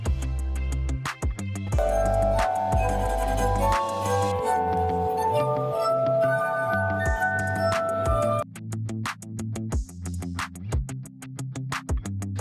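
Street musician striking glasses filled with water to different levels: bright, ringing glassy notes played as a quick melody over a deeper, steadier pulse of low tones. The notes are clear and close, with no voices.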